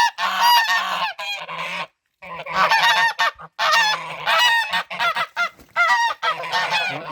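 Domestic geese honk loudly and repeatedly at close range during mating behaviour on a small farm, in rapid overlapping bursts with brief pauses between calls.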